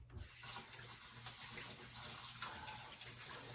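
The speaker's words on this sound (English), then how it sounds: "I'm going to rinse my hands off." A kitchen tap runs steadily as hands are rinsed during pork chop prep for smoking, a close, continuous hiss of water splashing into the sink.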